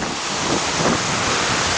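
Broadband roar of ocean surf at Miami Beach with wind buffeting the microphone, steady and close, no voices.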